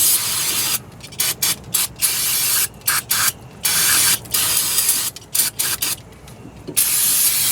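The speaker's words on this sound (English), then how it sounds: "First let's clean up this caliper. We're just going to give this guy a nice little, quick little of the brake clean here." Brake cleaner sprays in short hissing bursts onto the rear brake caliper of a 2011 Nissan Altima, several loud close blasts of varying length separated by brief pauses, with no talk.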